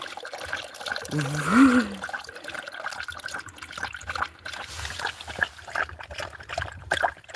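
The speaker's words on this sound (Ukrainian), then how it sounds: "Трохи поп'ємо водички." Water pours and trickles softly into a cup for drinking during an indoor live stream, faint bubbling under a voice that talks over it, with a brief whistling tone early on.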